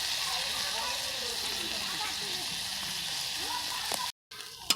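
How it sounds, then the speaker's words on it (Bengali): Ghetkol sizzling steadily in a hot frying pan with a little gondhoraj lime juice, an even close hiss with faint crackles throughout, broken by a brief gap near the end. "ভালো করে ভেজে নিচ্ছি"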